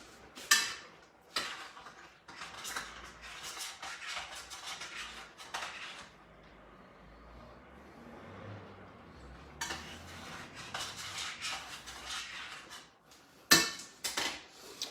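Pasta gets stirred in a cooking pot, with a run of light clinking and scraping taps of utensil against metal, close and fairly quiet, coming in clusters separated by a softer stretch, with no talking.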